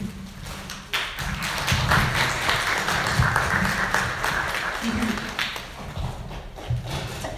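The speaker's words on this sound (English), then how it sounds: "Another round warm of applause for Jamie" An audience at a panel on intergenerational trauma and mental health in AAPI communities claps for a speaker, a loud, dense round of applause with sharp individual claps that carries on for several seconds.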